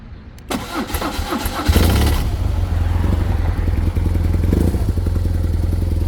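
A BMW motorcycle that had sat for months fires up after its battery is reconnected: a brief starter whir, then the engine catches and settles into a loud, steady, close idle.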